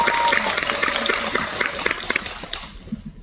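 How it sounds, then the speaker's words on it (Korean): Audience applause at a film screening Q&A in a theater, a brisk burst of clapping that thins out toward the end. "박수 한번 가주세요."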